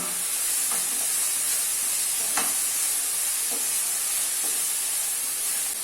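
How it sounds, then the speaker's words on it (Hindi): Chole masala cooks in a pan after salt goes in, giving a constant loud hissing sizzle broken by a few faint scrapes of a spoon stirring. "अभी इसमें 1 चम्मच नमक ऐड कर लेना है और मिक्स कर लेना है"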